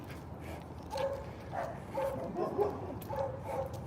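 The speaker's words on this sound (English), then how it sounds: "Too much going on here. No, too many dogs." Several dogs barking and yipping at a moderate distance during a morning walk, repeated short barks in an irregular rhythm over steady outdoor background noise.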